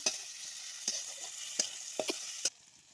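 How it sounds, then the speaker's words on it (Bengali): Onion, garlic and chopped tomato masala sizzling and frying in a pan, a steady crackling hiss broken by several sharp stirring clinks against the pan, close and alone without voices. "খুব ভালোভাবে আমি ভেজে নেব"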